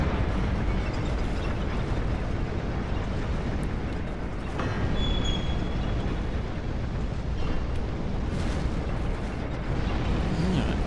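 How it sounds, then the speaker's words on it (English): Exploding barrel enemies in the video game Dark Souls II set off a dense, continuous roar of blasts and rumbling that stays loud throughout without pause. "Explodey barrel guys"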